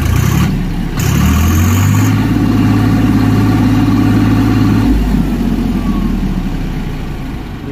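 Swaraj 744 FE four-wheel-drive tractor engine running close by, a loud steady diesel drone with a brief rise in revs early on, then settling and fading slightly toward the end.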